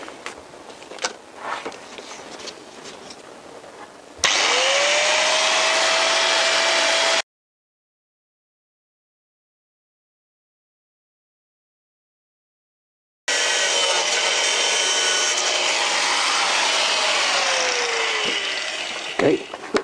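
A power tool cuts and trims CBR1000F motorcycle fairing plastic in a steady, loud whining drone that runs for a few seconds, stops, then resumes. Softer handling noises come before it.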